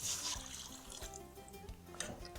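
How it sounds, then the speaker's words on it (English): Six cups of water poured into a pot of black-eyed peas, a steady close splashing stream that lasts throughout with a few soft knocks and clinks underneath. "Then we have 6 cups of water."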